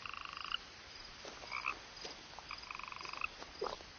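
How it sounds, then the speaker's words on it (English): Repeated frog croaks from a video game, coming in quick rhythmic bursts with short pauses between them, fairly clear and unaccompanied by talk. "Frog."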